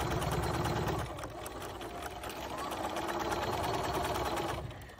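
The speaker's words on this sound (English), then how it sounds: "we're going to sew a quarter inch all the way around" A sewing machine stitches a quarter-inch seam around a fabric face mask, producing a continuous fast mechanical whir and needle rattle at a steady moderate level, with a voice talking faintly underneath.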